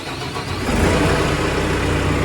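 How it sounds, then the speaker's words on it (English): A car engine catches after the key is turned all the way in the ignition, rising from a cranking rumble into a loud, steady running roar up close, with no talk over it. "Usually you got to turn the key like all the way to start it."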